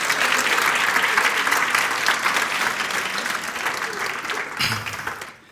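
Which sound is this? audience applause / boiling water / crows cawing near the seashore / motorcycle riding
audience applause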